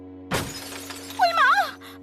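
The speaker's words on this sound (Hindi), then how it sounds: "शीशा टूट जाएगा।" A mirror's glass shatters in one loud burst of crashing, breaking pieces, followed by a bright, wavering tinkle as shards settle, with a brief trailing sound at the end.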